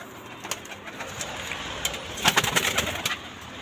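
Pigeons cooing on a rooftop, soft repeated coos with wing flutters, close and fairly loud, several birds overlapping toward the end, no voices.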